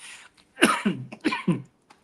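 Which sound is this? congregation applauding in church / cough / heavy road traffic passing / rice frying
cough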